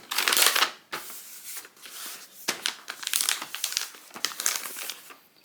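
Wrapping paper is folded around a present, giving loud close crinkles and crackles in uneven bursts, with short pauses between handfuls of creasing.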